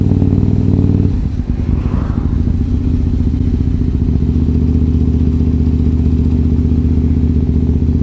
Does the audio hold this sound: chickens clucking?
no